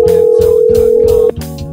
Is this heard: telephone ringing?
yes